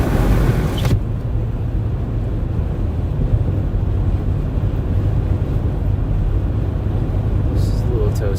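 A car's air conditioning blows hard to cool the cabin during winter storm coverage in the Southern Plains, a loud, steady rushing roar that fills the whole stretch.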